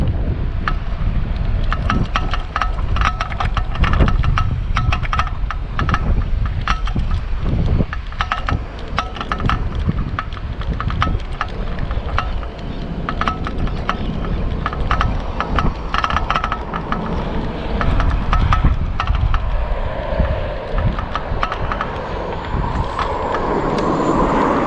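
An EVERCROSS 350W folding electric scooter with 8-inch tires accelerates at full throttle, its motor hum buried under continuous loud, buffeting wind rumble on the microphone for the whole stretch, with no speech.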